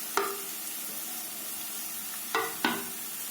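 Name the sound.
onion added to a hot pan, sizzling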